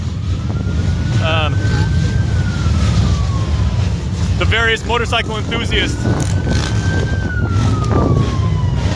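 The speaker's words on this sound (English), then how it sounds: "a police cruiser. Lights and sirens blazing, everyone." A police cruiser siren wails and rises and falls in the distance under wind and motorcycle engine noise at a 9/11 ceremony at Two Lovers Point, Guam, while someone talks over it.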